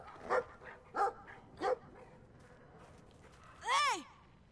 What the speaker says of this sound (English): We gotta fool this dog!